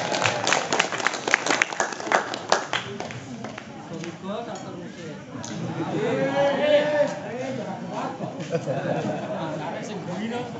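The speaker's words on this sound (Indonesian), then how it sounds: "Tepuk tangan untuk Pak Haji Munijan." Audience at a village history presentation applauds with loud, dense clapping that swells and fades over several seconds, mixed with crowd murmur and a speaker's voice carrying over it.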